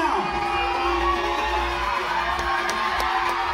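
An audience at a beauty pageant coronation night cheers and whoops for the candidates, a dense, sustained roar of many voices in a large hall with scattered shouts rising above it.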